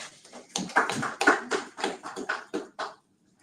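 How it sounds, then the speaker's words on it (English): A small group at a company Day 1 orientation clapping: a sparse, uneven burst of hand claps, close and distinct, lasting about two and a half seconds before stopping abruptly into silence. "The clap was short, so I think I deserve more."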